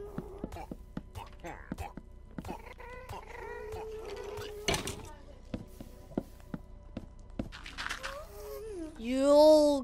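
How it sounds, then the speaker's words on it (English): A cat meows in a video game, with several short calls scattered among taps and whispered talk, ending in a louder, drawn-out wavering cry. "You punched a kitten."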